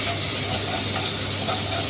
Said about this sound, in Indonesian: Nah, ini udah kita panaskan wajan ya teman-teman. Kita kasih margarin setengah sendok makan